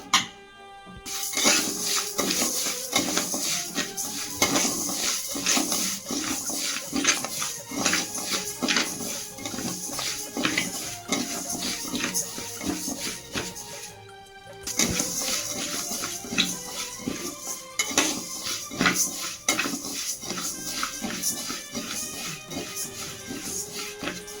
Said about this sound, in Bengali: এটা শুকনো খোলায় ভেজে নেবো লাল লাল করে ভেজে নেবো